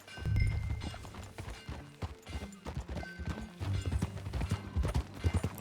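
Horse hooves clip-clop at a riding pace in the video game Red Dead Redemption 2, a steady rhythmic patter of hoofbeats over faint background sounds, with no speech.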